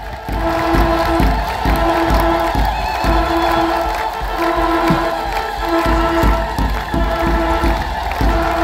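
A church crowd cheers and ululates in sustained, dense waves, with repeated high trilling calls running over continuous clapping and no pause throughout.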